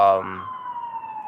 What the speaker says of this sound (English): I apologize for the sirens, the noise outside.